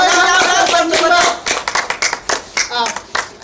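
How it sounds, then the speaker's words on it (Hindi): Audience at a Chhattisgarhi village comedy sketch claps hands, a loud burst of dense clapping that breaks into separate rhythmic claps, with voices over it. "ये जोरदार ताली बजाओ"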